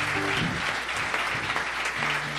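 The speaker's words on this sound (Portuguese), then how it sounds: "Aplauda Jesus." A church congregation applauding, a steady mass of clapping with faint voices and a low musical tone in the background, fairly loud throughout.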